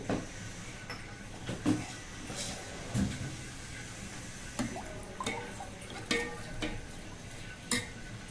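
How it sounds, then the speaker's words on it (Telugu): Organic jaggery melting in a pan is stirred, giving scattered clicks and scrapes of the spoon against the pan over a faint low sizzle, moderately close and steady. "ఇప్పుడు కొంచెం కరగనిద్దామండి దీన్ని. ఇలా తిప్పుకుంటూ ఉంటే అయితే కరిగిపోతుంది."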